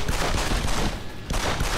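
Gunfire in the video game Deus Ex: Human Revolution, a dense loud burst of rapid shots that briefly eases and then resumes, with no talk over it.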